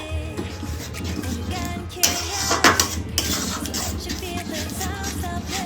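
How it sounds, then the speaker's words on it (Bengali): A fish head moong dal being stirred in a pot, with a spoon clinking and scraping against the metal over a steady low cooking rumble, including a few sharper knocks close by. "নেড়ে দেবো যাতে সমস্ত উপকরণ ডালের মধ্যে ভালোভাবে মিশে যায়।"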